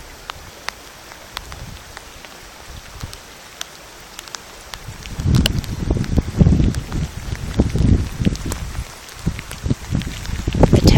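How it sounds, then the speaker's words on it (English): Rain falls into outdoor puddles with scattered sharp drop ticks. It swells midway into heavier, denser patter mixed with gusty rustling, fairly close to the microphone. "Watching the rain make puddles"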